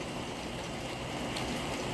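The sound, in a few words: rain falling outdoors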